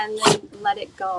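A dog named Mooch gives a single short, sharp sneeze close by, a burst of breathy noise, while a person speaks calmly around it.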